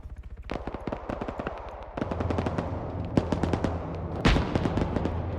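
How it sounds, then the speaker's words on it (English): Tank guns firing in an armored-push battle in a video game, with rapid, loud bursts of automatic cannon fire cracking in quick succession alongside heavier booming shots throughout, dense and continuous. "They're shooting with the tank."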